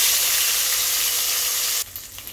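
Mourola fish frying in hot oil in a kadai, giving a loud, dense, steady sizzle close up that cuts off sharply near the end to a quieter hiss.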